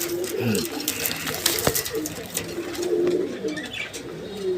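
Pigeons coo in a pigeon loft at a Bangladeshi breeder's farm, with soft repeated calls under a man's speech and constant background chatter from a busy, noisy setting.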